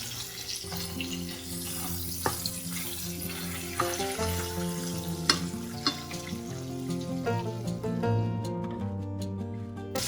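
Giant river prawns fry in olive oil with a steady, fairly quiet sizzle beneath clear background music, along with occasional soft clinks and stirring noises.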